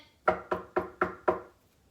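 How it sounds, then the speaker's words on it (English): Five crisp, evenly spaced knocks on a door, close by and alone against a quiet background. "So we must knock on the door."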